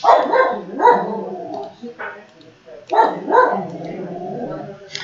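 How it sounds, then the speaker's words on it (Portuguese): An elderly, deaf, toothless pet dog barks indoors in a few loud, rough bursts with whimpering yips between, close by. "agora meu cachorro resolveu latir aqui também."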